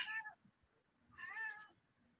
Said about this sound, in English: That's my kitty wanting to get up.